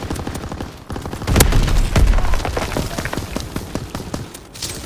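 Gunfire in Call of Duty: WWII ground war, a loud, rapid volley of shots with a couple of heavy thumping impacts near the middle, continuing steadily.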